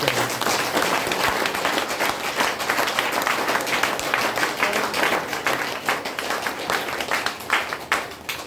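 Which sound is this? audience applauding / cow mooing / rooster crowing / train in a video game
audience applauding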